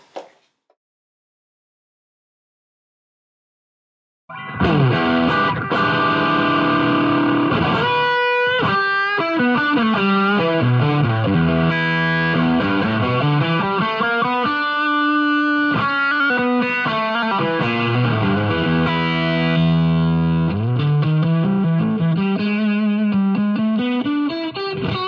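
A Suhr Pete Thorn Signature electric guitar played through a Yamaha THR32 amp set to a flat EQ, giving loud sustained distorted chords and bending lead lines that ring on continuously after a few seconds of silence.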